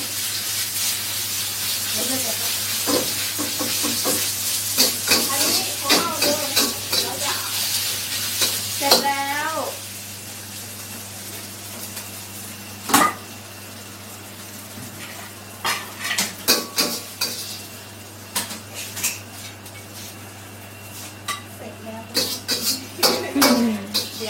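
Food being stir-fried in a pan in a home kitchen, a metal utensil scraping and clattering against the pan in irregular bursts over a soft sizzle, with occasional voices nearby.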